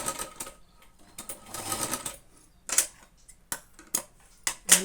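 Sewing machine stitching tucks on a blouse, with short runs of rapid mechanical clatter separated by quiet pauses and a few sharp clicks, close and moderately loud.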